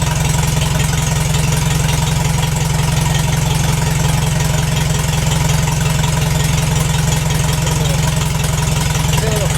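A 1951 McCormick Deering W4 tractor engine running after a cold crank start, a loud, close, steady low chugging idle with an even rapid firing pulse that fills the whole stretch.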